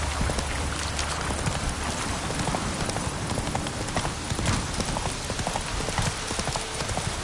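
Horse hooves clip-clop in a steady, continuous galloping rhythm throughout The Witcher 3, with a dense wash of outdoor ambience, rain-like patter and game sound layered over it.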